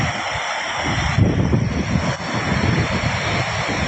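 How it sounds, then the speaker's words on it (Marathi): Water sprays from the overflow gate of Bhandardara dam, a loud, unbroken roar of rushing spray with wind buffeting the microphone up close. "हे बघा पाणी कसं उडून राहिलंय"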